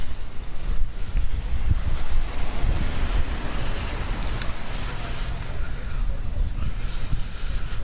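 Ocean surf rolls in at the shore in Puerto Vallarta, a continuous washing roar mixed with gusty wind rumble buffeting the microphone.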